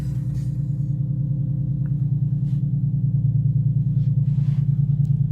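A rebuilt, formerly wrecked Nissan 370Z engine idles in a garage just after its first startup, a steady low rumbling drone with an even pulse and a few faint background noises.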